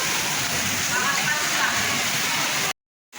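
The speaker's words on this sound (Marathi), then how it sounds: "दिसत असेल बघा कसला पाऊस चालू आहे जोरात मुसळधार" Torrential cloudburst-style rain in Pune pours down with rushing, flowing water, a loud, dense, steady roar filling the scene before cutting off abruptly near the end.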